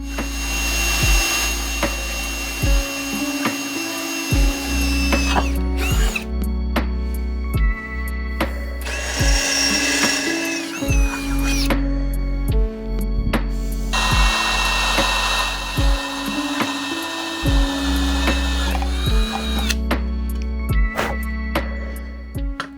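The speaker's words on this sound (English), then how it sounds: "I'll drill some holes in this first" A power drill bores holes in a motorcycle mudguard on a Kawasaki Z400 in a workshop, whining loudly in several long bursts separated by short pauses, with no speech.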